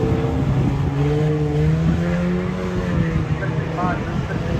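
Race cars circle a wet oval at Cowdenbeath Racewall, a steady loud engine drone with shifting revs and tire hiss close by and continuous throughout.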